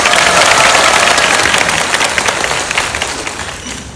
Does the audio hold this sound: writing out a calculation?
no